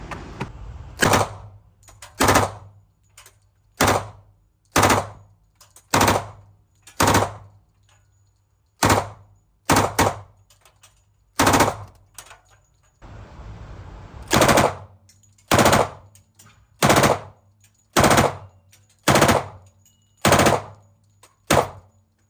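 A fairly fast-firing machine gun at a factory range rips off repeated short bursts and longer strings, loud and close, with brief pauses between each volley and no talking.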